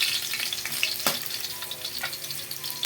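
Garlic sautéing in a pan, a steady close sizzle with a sharp stirring clack partway through and lighter scraping later, no voices.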